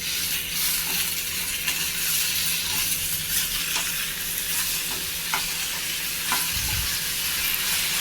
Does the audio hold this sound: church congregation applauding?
no